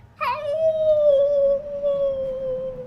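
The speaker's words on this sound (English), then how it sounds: "you hear a howling from Malefique" A monster in a Weird West tabletop roleplaying game lets out a howl of pain: one long, drawn-out, slightly wavering cry that holds steady for a few seconds, close and loud, with no talking.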